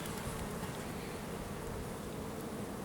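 A dense, continuous buzzing of many honeybees at close range at an open hive during a colony inspection, a steady low drone with no pauses.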